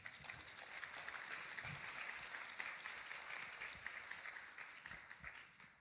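Faint, distant audience applause at a community event standing against gun violence, an even, steady patter of clapping that carries on throughout without talk over it.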